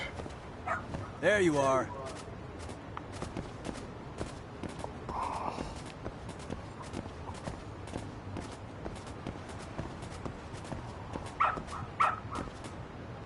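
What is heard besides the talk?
dog barking in the video game Lost Judgment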